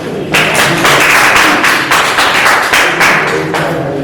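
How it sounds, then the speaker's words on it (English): A school quiz-contest audience bursts into loud, sustained clapping for a girls' school team, dense and close, holding steady for several seconds with no talking. "Let's clap for them."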